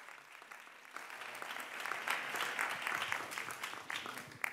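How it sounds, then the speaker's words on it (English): Applause from a conference audience at an event in New York, celebrating a birthday; many hands clap in a broad, fairly distant wash that swells midway and keeps going without voices. "so clap loudly"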